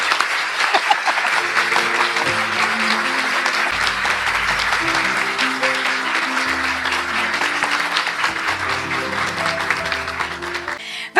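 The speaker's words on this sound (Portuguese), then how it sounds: "vamos ficar de pé e agradecer-lhes com um forte aplauso." Sustained audience applause for teachers at a graduation gala, loud and even throughout, with a sustained musical tone underneath and a sharp bump at the very end.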